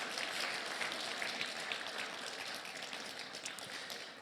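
Church congregation applauding during a Spanish-language sermon: soft, steady clapping from a crowd, somewhat distant and faint, continuing evenly for several seconds before slowly thinning.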